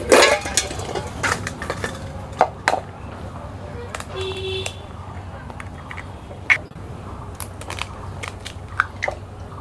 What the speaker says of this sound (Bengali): এখন ডিমগুলো ফাটা নেব।